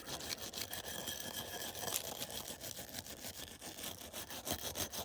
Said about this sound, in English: Just get the Dremel on it for a second.